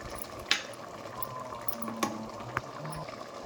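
Spinach curry with chili, salt and turmeric bubbles in a large cooking pot, a quiet, close simmer with a few distinct pops and plops over a soft, steady bubbling bed.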